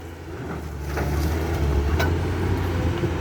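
A Kubota engine revs to about 1,800 rpm. Its low, steady drone swells louder after the first second and then holds, with some wind buffeting over it.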